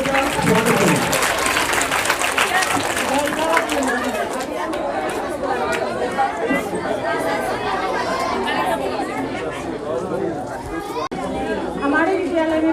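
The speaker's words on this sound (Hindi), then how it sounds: "बच्चों से अनुरोध है कि वो ताली बजाएं और माइक का स्वागत करें।" Children at a school parent-teacher meeting clap to welcome a speaker, a loud burst of applause that gives way to lively crowd chatter and talking.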